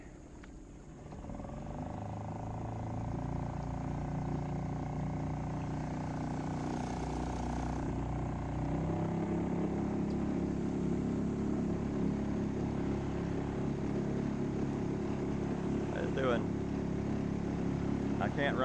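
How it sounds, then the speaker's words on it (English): A new, not yet broken-in outboard boat motor with an extension handle runs steadily at about half throttle, a moderately loud continuous drone with slight pitch shifts, with a voice talking over it. "I can't run wide open because I don't have the motor broke in yet. It's about half throttle."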